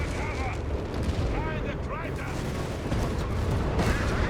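Heavy anti-tank fire striking a Sturmpanzer in the video game Company of Heroes 3, a continuous dense battle din of booming impacts and gunfire with a commentator's voice talking over it throughout.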